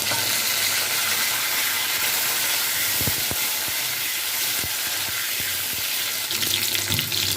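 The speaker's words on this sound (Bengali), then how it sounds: "এবারে উচ্ছেগুলো ভেজে নেব।" Bitter gourd frying in hot mustard oil in a wok on a gas stove, a loud continuous sizzle and hiss with a few faint clicks of a utensil, no voices.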